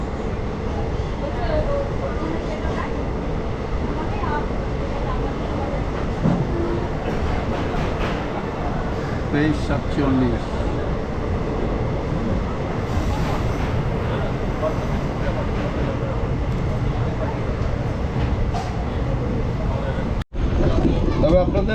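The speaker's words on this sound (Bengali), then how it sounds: "11:46 আমাদের ট্রেন ছাড়লো কলকাতা স্টেশন থেকে।" A Holi special passenger train running from Kolkata toward New Jalpaiguri gives a continuous rolling rumble and rattle from inside the coach, with a voice speaking over it.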